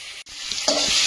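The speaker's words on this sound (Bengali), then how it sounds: "সবজিটা ভালোভাবে ভেজে নিয়েছি" Vegetables fry in oil in a pan with a steady, close sizzle. A brief scrape of stirring cuts in partway through, and the hiss swells afterward.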